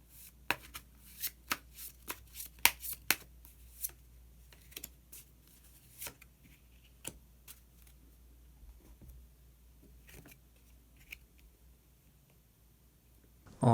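Tarot cards being shuffled and drawn from the deck: a quick run of crisp, snapping card flicks early on, then sparser soft slides and taps, all close and quiet with no talking.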